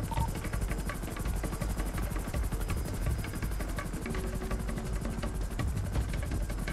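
Close, loud helicopter from the video game GTA 5, rotor blades beating in a fast even pulse over a droning engine hum, continuous for several seconds with no talk.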